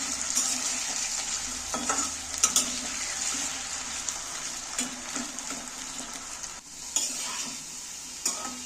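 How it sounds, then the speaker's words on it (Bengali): Potatoes being stirred and fried in oil in a kadai, a steady sizzle with repeated scraping stir strokes and occasional utensil clinks, close and continuous. "আলুটাকে আমি তেলের মধ্যে একটু নাড়াচাড়া করে ভেজে নেব।"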